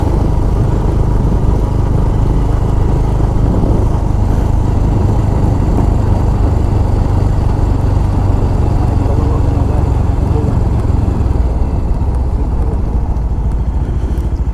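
A motorcycle rides along a road toward the river near Bhalukpung, its engine droning loud and steady throughout with wind rumble and no break in the sound.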